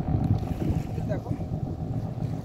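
Boat on the water at Haldia port, a steady low engine drone with wind buffeting the microphone, continuous and fairly close throughout.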